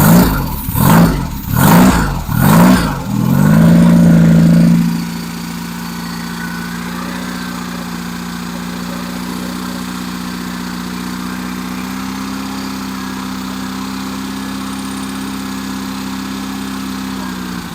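On a first start-up attempt, an engine cranks in several short, rhythmic bursts, then catches and settles into a steady, loud running drone that holds for the rest of the time.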